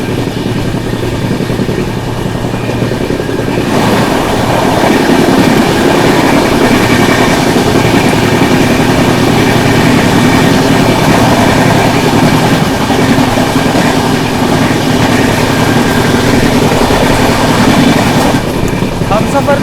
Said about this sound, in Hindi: चलिए अपनी ट्रेन जो है स्किप करने जा रही है प्रयागराज शिवकी जंक्शन।